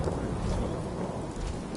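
Steady rain and a low rumble of thunder fill a stormy scene in the video game Fallout 4, a continuous, fairly quiet wash of noise with no voices.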